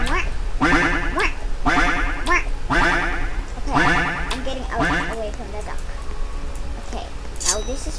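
A duck in the Roblox obby Escape Miss Ani-Tron quacks loudly and repeatedly in a steady, bouncy rhythm, each quack close and prominent, with the calls thinning out toward the end.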